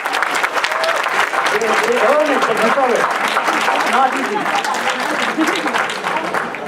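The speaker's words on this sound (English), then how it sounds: "Let's give a big round of applause" An audience applauds loudly and continuously while several voices talk and call out over the clapping.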